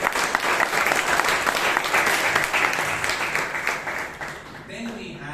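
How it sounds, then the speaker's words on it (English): An audience at a Toastmasters meeting in Bangalore gives a dense round of clapping that holds steady, then thins and fades out near the end as voices begin. "please give Amrit Kaur a big round of applause"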